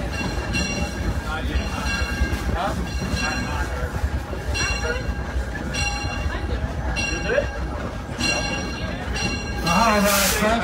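Passenger train rolling toward Johnson Creek Station, a steady loud rumble of wheels and rail with rhythmic clatter and a brief bell-like ring near the end, under a conductor's announcement over the speaker.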